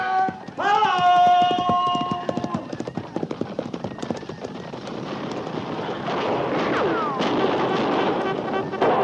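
Galloping horses of a cavalry charge in an old radio drama: a rapid, loud clatter of hooves with gunfire-like cracks, opening with a bugle-like horn call and building into a dense, rumbling charge.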